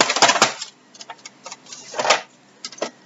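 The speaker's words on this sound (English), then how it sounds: "Let me just cut off this white edge." Scissors trim a white edge off a piece of fabric while a pocket is sewn. A few crisp snips come in short bursts separated by quiet pauses, close up and fairly loud, with no speech.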